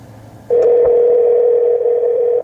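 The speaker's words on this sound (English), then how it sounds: "It's going to pull it up, and it's going to make that phone connection" A steady dial tone sounds through the infotainment speakers of a 2014 Chevrolet Silverado when a phone call is placed, starting abruptly after a faint cabin hum and holding loud and even for about two seconds before cutting off.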